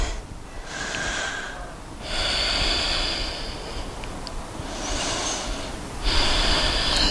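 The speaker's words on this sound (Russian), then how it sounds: "Три цикла дыхания здесь." Deep, slow yoga breaths during a twisting practice, several long audible inhale and exhale cycles close to the microphone, each lasting about a second or two with short pauses between, steady and unhurried.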